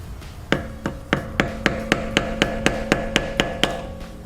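A hammer strikes a screwdriver to straighten the staked nut on a car's front wheel bearing, about a dozen sharp, ringing metallic taps in a steady, slightly quickening rhythm, close and loud with no talk.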